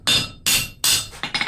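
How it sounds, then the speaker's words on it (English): Three loud hammer blows on an anvil at bright forging heat, shaping railroad spike tongs, each a sharp ringing strike followed by a short decay, then a quicker run of lighter taps. "Hammer that up."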